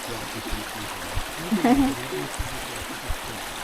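A small forest stream flowing past ice on a cold day, a soft continuous trickle and gurgle with a brief louder splash in the middle, heard close under faint background sounds.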